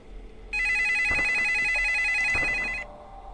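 A telephone rings once in the video game Five Nights at Dolma's 3, a bright, buzzy electronic trill lasting a couple of seconds over faint background hum.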